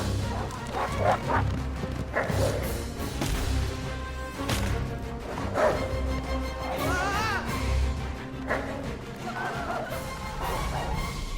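Dogs bark, yip and whimper in an eager chase, their repeated calls sitting inside a dense, busy soundtrack of music and effects.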